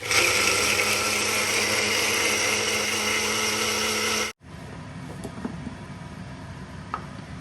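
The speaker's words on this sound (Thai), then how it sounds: "ปั่นในเครื่อง" An electric blender blends dipping sauce for chicken rice with a loud steady whir, then cuts off abruptly and leaves quiet room noise with small clinks.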